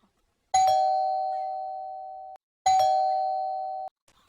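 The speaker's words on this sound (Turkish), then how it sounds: "Zili deneyebilirsiniz." A doorbell rings twice, each press giving a bright two-note chime that rings out and fades, separated by a short silence.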